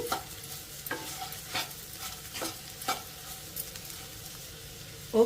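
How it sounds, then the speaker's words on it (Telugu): Potato fry cooking over a medium flame, stirred in a pan with chilli powder, gives a steady close sizzle broken by repeated scraping strokes of the spoon. "ఇదంతా మనం మీడియం ఫ్లేమ్లోనే ఫ్రై చేసుకోవాలి"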